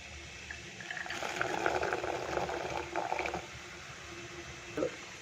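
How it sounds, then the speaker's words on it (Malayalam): Steady bubbling of water at a rolling boil, a continuous hissing churn with a brief louder bubble burst near the end; no voices. "വെള്ളം നന്നായിട്ട് വെട്ടി തിളച്ചിട്ടുണ്ട്"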